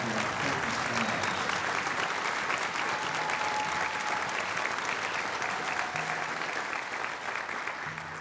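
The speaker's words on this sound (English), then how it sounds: "Let's give them another round of applause." Steady, dense applause from a concert audience for the Asheville Community Band, continuous and even throughout with a faint murmur of voices underneath, fading slightly at the end.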